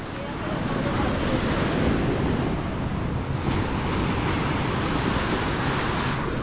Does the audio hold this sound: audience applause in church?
no